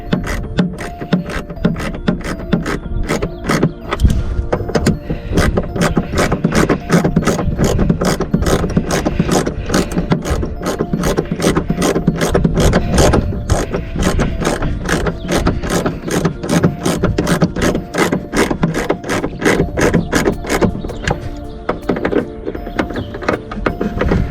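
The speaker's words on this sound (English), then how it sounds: "The final step is a 7/16 inch wrench, and just tighten them down." A 7/16 inch ratcheting wrench tightens nuts on an ATV lounger mount, a loud, rapid, even train of clicks that runs steadily and close up.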